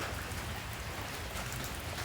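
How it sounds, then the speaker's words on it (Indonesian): Rain falls outdoors as a steady, even wash of soft hiss, constant for the whole moment, with no voices. "Jadi hujannya udah mulai berhenti"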